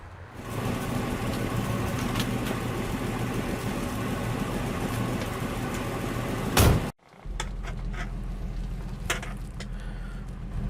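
A 1967 Ford Mustang coupe engine idles with a steady rumbling drone before a drive. A single heavy thump, like a door shutting, cuts in near the end, and the idle continues more muffled afterwards. There is no speech.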